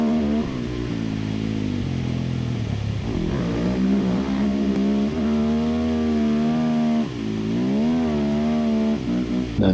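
A dirt bike engine revs hard as the rider pulls a wheelie turn to climb back up a hill, its close, loud buzz sweeping up and down in pitch without a break.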